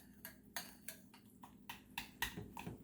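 A spoon stirring food in a bowl: about nine evenly spaced, quiet clinks and scrapes, close and rhythmic, with no voices.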